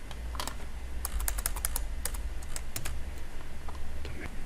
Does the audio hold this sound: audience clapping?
no